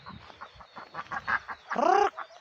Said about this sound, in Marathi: आमच्याकडं देशी कोंबड्या बी आहेत